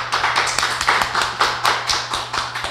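A person claps their hands on an anniversary broadcast of an evening talk show: a steady run of quick, fairly loud claps at an even pace, with a low electrical hum underneath and no talking.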